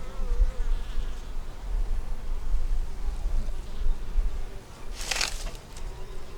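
Honey bees at a nuc hive hum in a continuous close drone, with a brief rustling burst near the end.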